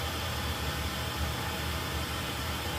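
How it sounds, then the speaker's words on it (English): Steady broadband hiss from the tuner of a Pioneer VSX-7300 receiver that has no sound output, a constant even noise with no change in level, heard alone without talk. "You hear the hissing sound from tuner."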